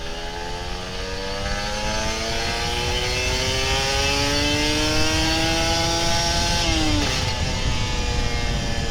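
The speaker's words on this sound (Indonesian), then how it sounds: "Enak tuh suaranya, gue demen banget suara Ninja." A Kawasaki Ninja RR 150 two-stroke motorcycle engine revs hard and climbs steadily through the gears, its pitch rising in long sweeps with a quick drop at a shift, loud and close throughout.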